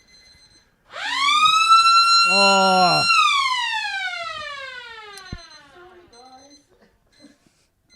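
A loud electronic end-of-quarter siren at a country Australian football match blares for about two seconds, sliding slowly downward as it fades, followed by a brief exclamation and faint crowd noise.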